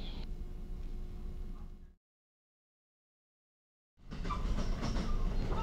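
A Shinkaisoku electric train pulling out of Kusatsu toward Moriyama gives a steady rumble on the rails, heard from inside the carriage. The sound drops out for about two seconds, then returns at full strength.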